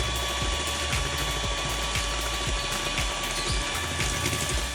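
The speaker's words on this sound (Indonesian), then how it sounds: "Sebut aja pas momen putih telur dikocok pakai mixer ini" An electric mixer whipping egg whites for meringue, a steady loud motor whir with a constant high whine and faint rhythmic clicks, close and continuous throughout.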